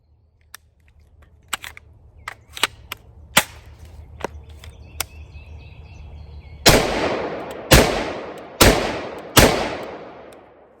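Pistol fitted with a Cyelee T10 red dot sight fired outdoors: scattered smaller clicks and handling sounds first, then four loud, close shots in fairly even succession with sharp reports and short decays.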